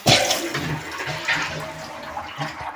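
Water rushes into the pipes of a home pump station system as a tap is opened, a steady close gurgling surge with a few louder splashy bursts, and nobody speaks.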